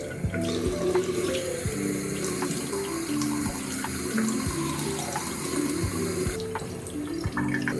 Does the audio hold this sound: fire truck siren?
no